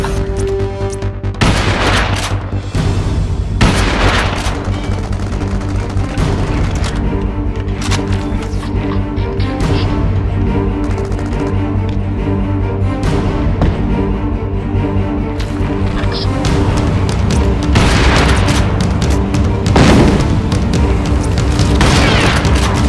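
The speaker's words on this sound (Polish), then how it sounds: "Ale wybuchło." Loud, continuous Crysis multiplayer combat audio with heavy booms and bursts of gunfire layered over a steady low rumble, with no pause from start to end.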